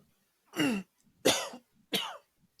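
A man coughs and clears his throat in three short, harsh bursts, close and distinct, with brief quiet gaps between them.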